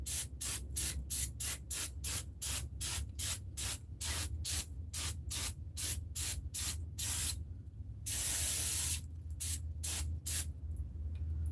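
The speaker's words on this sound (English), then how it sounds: "Make sure we get that brake cleaner up out of there." Brake cleaner sprayed onto the 3.7 engine of a 2018 Ford Explorer during a timing chain and water pump job: a rapid series of short, loud aerosol bursts, then one longer hiss and a few more spurts, with no talking.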